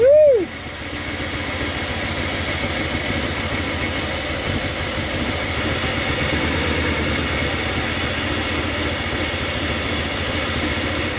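Barn-find Toyota FJ40 Land Cruiser with a 1UZ V8 swap, suspected blocked injectors, idling roughly after a brief loud rev at the start, then a steady close rumble running on for the rest.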